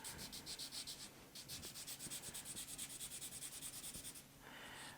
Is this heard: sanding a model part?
yes